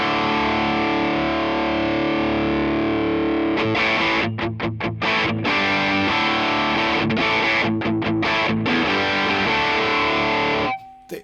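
An electric guitar plays a driven, distorted tone through a Hyde Street amp profile on a ToneX: sustained chords ring out, then choppy muted strums and stabs, ending with a sudden cut.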